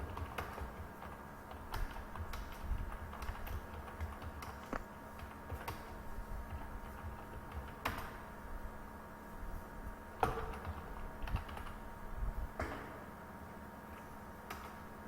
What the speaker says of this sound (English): then you can type whatever they are talking